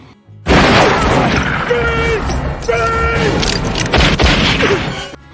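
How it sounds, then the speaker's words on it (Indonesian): Gunfire rings out in a cowboy film shootout, with several sharp cracks and booms in quick bursts near the end, under loud shouting voices. "baku tembak pun akhirnya terjadi"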